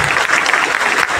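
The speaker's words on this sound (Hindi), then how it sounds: "जोरदार तालियां बजा के उनका स्वागत करेंगे" Loud, dense audience applause welcoming guests at a motivational event, continuous clapping close and full for the whole moment.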